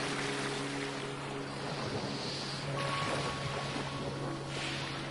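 A voice imitates the sea with a steady, breathy rushing whoosh that swells slightly and holds, close to the microphone, over a low constant hum.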